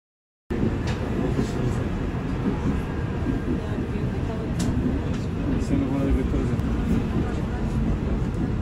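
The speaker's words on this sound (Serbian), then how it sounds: "Sada na snimku možete pogledati kako izgleda vožnja tramvajem T1 preko Galata mosta." A T1 tram rolls across the Galata Bridge in Istanbul, giving a steady, dense rumble that holds from just after the start to the end with a few faint clicks on top.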